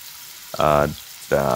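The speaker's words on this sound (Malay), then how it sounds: "Kita nak biar ayam ni goreng selama 2 hingga 3 minit." Marinated chicken pieces dropped into hot ghee in a pan, two loud bursts of sizzling frying with a quiet pause between.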